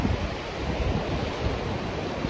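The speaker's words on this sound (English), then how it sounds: "Just wait for some more big waves" Ocean waves break along a coast in the far north of Ireland, a continuous roar of surf with wind buffeting the microphone, loud and steady throughout.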